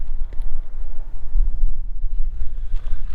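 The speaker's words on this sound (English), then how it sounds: "It's kind of gotten a little windy here" Heavy wind buffets the microphone outdoors beside a 2000 New Holland 575E backhoe, with low, rumbling gusts that rise and fall throughout, loud and close.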